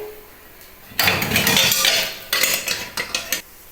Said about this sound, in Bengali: এবার আরেকটা কড়াই বসাই